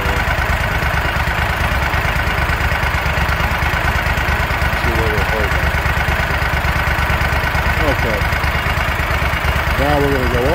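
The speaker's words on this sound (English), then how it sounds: "The motor is warmed up for about 2 minutes." A small engine idles steadily at about 1,000 RPM after a two-minute warm-up, a loud, even, close-up putter with a slightly fluctuating rhythm and no talking.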